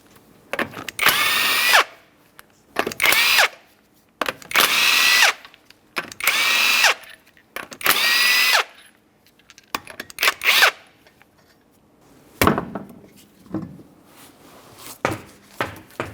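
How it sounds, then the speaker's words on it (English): A power tool loosens the front wheel's 19mm lug nuts on a 2008-2012 Jeep Liberty in repeated loud, close whirring bursts of one to two seconds each, separated by short pauses, with shorter spurts toward the end. "we're going to continue on removing the wheel, starting with the lug nuts"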